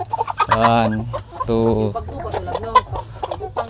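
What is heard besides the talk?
RTL hybrid chickens clucking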